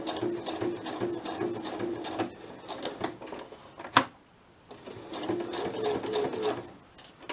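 A sewing machine stitches through paper with a steady, fast mechanical whirr and needle clatter, pausing briefly after a sharp click midway before resuming, quiet and close with no speech.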